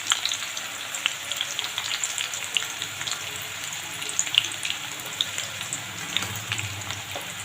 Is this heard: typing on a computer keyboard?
no